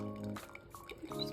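Water poured from a kettle over coffee grounds in a V60 pour-over dripper: a short, soft liquid trickle and splash heard up close, framed by brief humming tonal sounds at the start and end.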